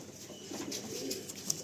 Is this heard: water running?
no